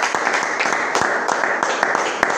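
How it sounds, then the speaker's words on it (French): A church congregation breaks into applause at a revival gathering: a dense wash of many hands clapping, with sharper individual claps poking through at an uneven pace and a loud, close, full sound throughout. "Applaudissons pour le Seigneur Jésus."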